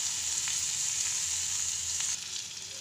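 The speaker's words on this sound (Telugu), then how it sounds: "సన్నగా కట్ చేసి పెట్టుకున్న ఎర్రగడ్డ వేసుకొని వేయించుకొని" Sliced onion with asafoetida and curry leaves frying in hot oil, a loud, close, continuous sizzle that drops slightly in level near the end.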